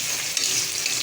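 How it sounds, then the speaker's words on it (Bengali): Pieces of fish sizzling and frying in hot oil in a pan during cooking, a steady close crackle with a brief stir. "এখন হচ্ছে মাছগুলো কষাবো"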